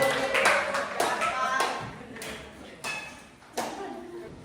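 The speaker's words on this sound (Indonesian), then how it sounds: "Berikan tepuk tangan yang meriah buat kelompok 2." A classroom of Islamic religious education students claps for a presenting group, a few people giving loose, uneven handclaps close by in separate bursts across about four seconds.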